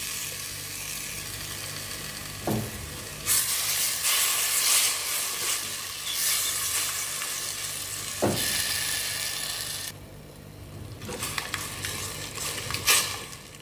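Tomatoes tipped into a hot pan of a traditional home-style dish, giving a loud steady sizzle and hiss with a few sharp stirring scrapes and bursts as the ingredients are turned.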